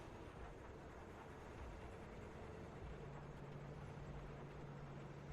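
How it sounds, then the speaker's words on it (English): A train rumbles along in the video game Cyberpunk 2077, a dense, steady low roar with a faint sustained hum joining partway through, continuous and fairly loud. "Okay, following the train."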